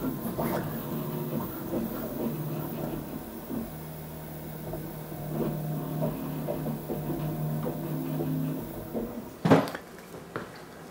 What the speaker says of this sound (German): Und hier oben die beiden Drucker, die produzieren jetzt gerade die Gehäuse für den Nano I.O.